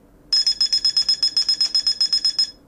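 Rapid, high-pitched electronic beeps from a Wi-Fi signal strength app repeat evenly, about a dozen in quick succession, clear and close with no other sounds.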